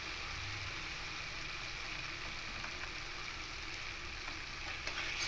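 Spices and salt sizzle and fry steadily in a pan while being stirred for a vegetarian potato curry, a continuous close hiss with occasional soft scraping, no talk.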